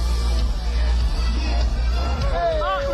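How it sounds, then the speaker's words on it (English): Party crowd noise at Mar-a-Lago played back from a recording, a dense hubbub of chatter with music underneath and occasional whoops rising toward the end. "Listen to the Mar-a-Lago crowd."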